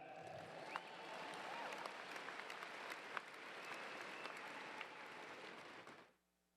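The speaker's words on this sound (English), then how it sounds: "You're supposed to clap." Audience applause at a May 2016 university commencement ceremony, steady and dense for about six seconds with a few louder claps standing out, then cutting off abruptly into near silence.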